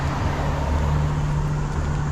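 A car passes along a residential neighborhood street, a steady nearby engine and tire hum with a low tonal drone and no talking.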